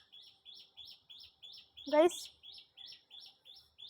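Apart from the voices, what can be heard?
bird chirping nearby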